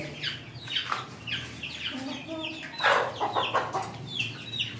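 Plymouth Rock and Australorp hens, each roughly 2 to 2.5 kg, clucking repeatedly close by at a farm in Karachi, their short overlapping clucks and squawks coming in an uneven busy stream.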